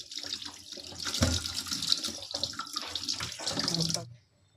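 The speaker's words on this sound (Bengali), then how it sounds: "সব মাছগুলোকে এবার ভালো করে ধুয়ে নিচ্ছি" A tap pours steadily while rohu fish are washed in a sink, the gushing water close and continuous for about four seconds before it shuts off.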